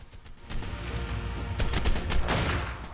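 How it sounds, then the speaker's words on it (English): Gunfire in Ark Survival Evolved aimed at big raptors, rapid bursts of shots crackling in quick succession, loud and close, building into dense volleys toward the end. "Right, let's try and shoot these ones. These are big raptors."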